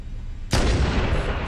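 A single heavy weapon shot in Halo CE: one sharp, loud blast after a brief quiet lead-in, followed by a sustained booming tail.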